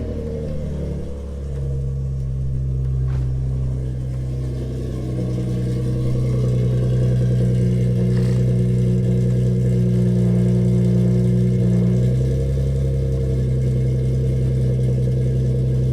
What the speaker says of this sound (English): Start it up again and see how it runs.